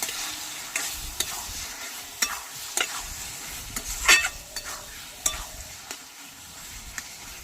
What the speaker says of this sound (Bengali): এবার গোটা রসুনের কোয়া দিয়ে দিচ্ছি আবার ভালোভাবে মিশিয়ে নেব